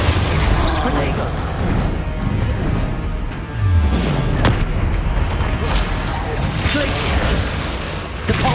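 Spell-casting blasts in the Hogwarts Legacy video game, with booming, crashing impacts over a dense rumbling battle din and a voice shouting spell names.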